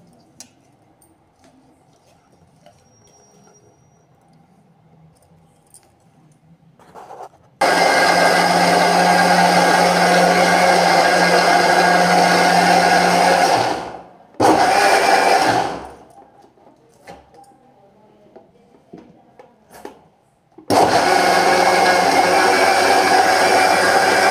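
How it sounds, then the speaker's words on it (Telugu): An electric mixer grinder grinding coconut roars close and loud in three separate runs, starting and stopping abruptly, with quiet stretches of faint background between bursts. "కొబ్బరి వేసి ముందు పట్టుకుందామండి మిక్సీ, తర్వాత పప్పు వేసుకుందామండి."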